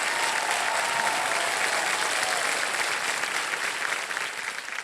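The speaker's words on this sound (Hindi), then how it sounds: "ताली बज जाए एक बार जोरदार" A studio audience on a televised quiz game show claps enthusiastically, a loud, dense burst of applause that holds steady for several seconds before beginning to thin out.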